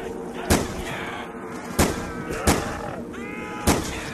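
Four sharp gunshots in a zombie survival video game ring out at spaced intervals, loud and close, over a steady background hum of in-game ambience.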